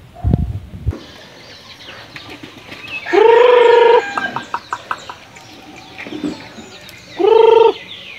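Close crowing from a jungle fowl or native chicken rings out twice, a few seconds apart, with scattered soft clucks and rustling in between and no talk.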